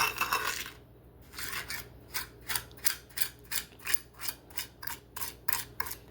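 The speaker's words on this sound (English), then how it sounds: "Just mash it in and mix it." Lemon zest is mashed and mixed into sugar in a bowl, a utensil scraping and clinking in a quick, even rhythm of about a dozen gritty strokes, close and fairly quiet with no talking.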